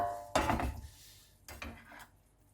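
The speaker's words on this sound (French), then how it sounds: "On va prendre une belle assiette." A plate is picked up and set down, giving a sharp close clatter followed by a couple of softer knocks and clinks in a quiet kitchen.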